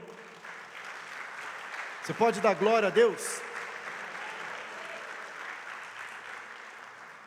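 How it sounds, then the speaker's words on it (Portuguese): A church congregation claps in praise, a steady wash of applause beneath a pastor who calls out briefly in a sung, rising voice midway before the clapping carries on alone. "Você pode aplaudir o Senhor?"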